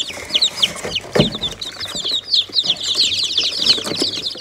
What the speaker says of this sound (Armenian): Հմի ճուտերին ստեն հանել դիմ